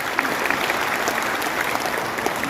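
Steady audience applause at an Indonesian political gathering, a continuous patter of many hands clapping at moderate level, with no speech over it.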